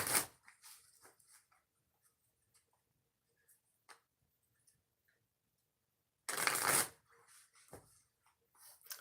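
Oracle cards are shuffled by hand for a card reading, giving soft, close riffling bursts at the start and again near the end, with quiet scattered taps and card slides between them.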